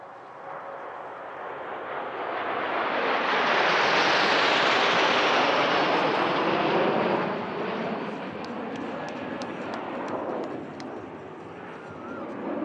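Patrouille de France Alpha Jet trainer jets flying a display at the La Ferté Alais air show, a loud broad jet roar swelling as they pass close overhead, then fading to a steady distant rumble.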